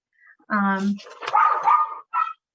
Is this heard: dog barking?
yes